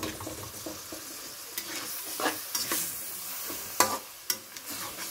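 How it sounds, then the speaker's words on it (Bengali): Chicken mince with ginger, garlic and cumin paste is stirred in a pan, with a low sizzle under repeated scraping and clattering strokes of a spoon, irregular and close. "এখন আমি এগুলিকে ভালো করে মিক্সড করে নিব"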